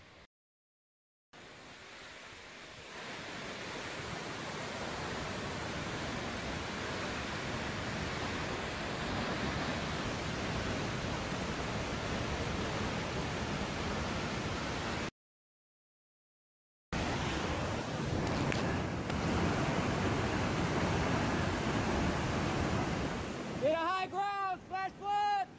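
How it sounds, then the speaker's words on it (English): A loud, continuous rushing roar of floodwater during extreme weather fills the clip, broken by a short silence, with faint voices emerging near the end. "it sounds like a lot of water's coming"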